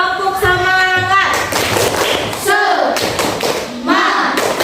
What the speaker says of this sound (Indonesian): ayo kita tepuk semangat dulu ya. Tepuk semangat.